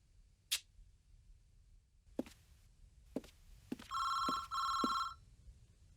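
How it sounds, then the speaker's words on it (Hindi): An old-style telephone bell rings in two short bursts after a few scattered clicks and knocks, fairly quiet in an otherwise still room. "फोन उठाओ"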